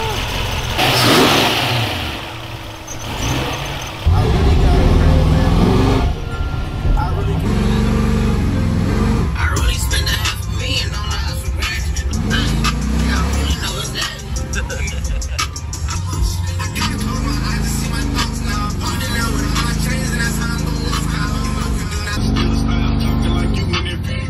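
A supercharged 1967 Mercury Cougar V8 revs loudly and continuously up close, its engine note rising and falling through repeated throttle blips, with voices and background noise mixed in.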